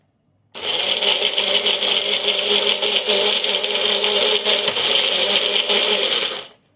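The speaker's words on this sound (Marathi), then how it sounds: "खजूर मगजबी मस्त बारीक होई तोपर्यंत हे मिक्सरवरती आपल्याला फिरून घ्यायचं आहे" A mixer grinder blends dates and milk for a date milkshake, a loud steady whirring roar that runs continuously for several seconds and then cuts off abruptly, with no talking over it.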